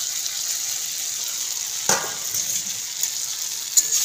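Fried eggs are stirred into a sizzling potato curry in a pan. A soft, even frying hiss is broken once by a sharp clatter of the stirring spoon, with a few lighter taps later and no voices.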